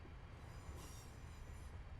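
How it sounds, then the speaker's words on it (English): A train in Train Simulator 2020 rumbling past, a brief two-second surge of wheel noise and rail squeal with a low steady rumble and a bright hiss swelling in the middle. "Hello, train."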